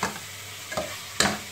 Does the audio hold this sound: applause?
no